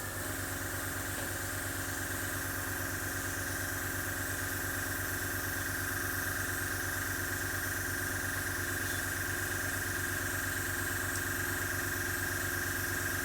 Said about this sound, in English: this stuff normally needs to be sprayed at quite a low air pressure